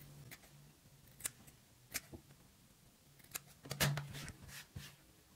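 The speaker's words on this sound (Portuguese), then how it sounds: "Agora nós vamos cortar aqui essas pontinhas." Scissors snip through the fabric tips of a homemade protective face mask, a few faint, sharp cuts spaced irregularly over quiet room tone.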